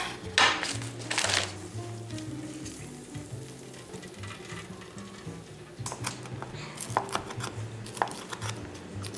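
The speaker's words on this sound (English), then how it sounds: "We'll just slide this over for a minute while we chop the bacon." A knife chops cooked bacon in a home kitchen, with quiet irregular board taps over a soft background sizzle and a few sharper knocks near the end, no talking.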